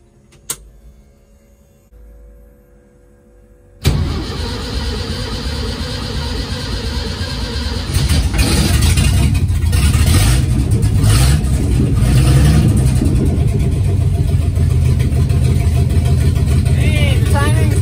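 A car engine, just after spark plug and timing work, stays quiet for a few seconds, then catches abruptly and runs loud and close, revving steadily with rising intensity.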